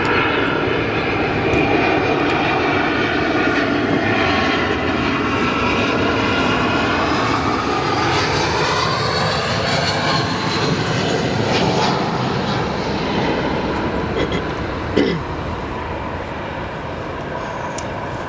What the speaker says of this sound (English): Nice arrival there. The United 320.